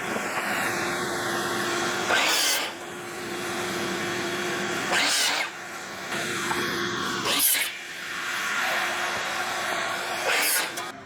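A miter saw cutting an 8-foot board into legs for an elevated greenhouse planter box, a loud continuous whine with several sharp bursts as the blade passes through wood.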